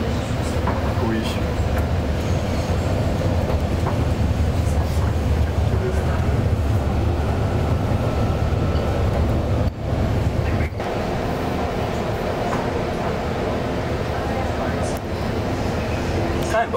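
A Montréal subway train rolls between stations with a loud, steady rumble and rattle, the low roar continuous throughout while people talk over it.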